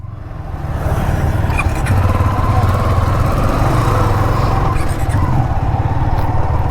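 Motorcycles including a KTM 390 on a group ride, a loud close engine drone with a rough, buzzing note that holds steady and rises slightly, with no talking.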